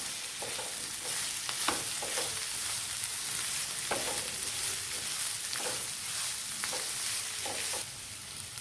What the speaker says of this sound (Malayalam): നന്നായിട്ടെല്ലാം കൂടെ വഴറ്റാം.